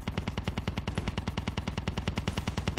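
A rapid, evenly spaced burst of automatic gunfire from a Call of Duty Mobile battle royale match rattles on loud and close for nearly three seconds, with no voices.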